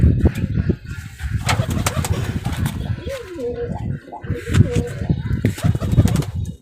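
Pigeons in a home loft coo in low, throaty bursts with occasional wing flapping, close by, while people talk over and between the calls.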